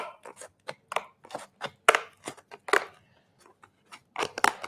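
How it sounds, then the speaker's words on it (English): Scissors snip through cardboard in short, irregular crisp cuts with brief pauses between them, close and clear with no talking. "It's better scissors."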